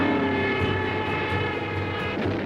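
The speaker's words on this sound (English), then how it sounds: "The Hawker Hurricane was a super tough and great flying airplane." A Hawker Hurricane propeller fighter plane in flight, its engine giving a steady, loud, droning hum that holds evenly for the whole stretch with no voices.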